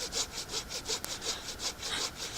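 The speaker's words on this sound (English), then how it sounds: "Now this log's super wet, so it's not cutting fantastically, but I'm basically just started." A folding saw cuts a wet log in steady back-and-forth strokes, about a dozen rhythmic rasps close by, with no talking.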